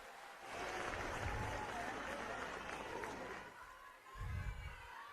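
Crowd applause and clapping at a Punjab election rally in Hoshiarpur, a sustained mass of clapping and crowd noise lasting several seconds, easing briefly before a low thumping swell near the end.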